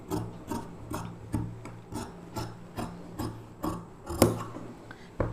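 Scissors cut lining fabric for a 32-inch lehenga blouse in a round shape, a quiet, close series of about a dozen evenly spaced rasping snips in a steady rhythm, with no talking.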